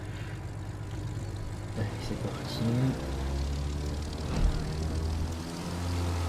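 A propeller airplane engine in the video game The Crew 2 drones steadily at moderate level while someone speaks French over it briefly.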